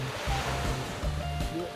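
Ocean surf washes in a continuous rush on a beach, with a low rumble and faint talk in the background.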